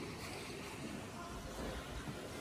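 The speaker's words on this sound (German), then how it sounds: "hier schießt das Wasser den Berg runter." Steady broadband rushing of floodwater surging down a mountain canal near Königssee in Berchtesgaden, a continuous faint roar with wind noise and no distinct breaks.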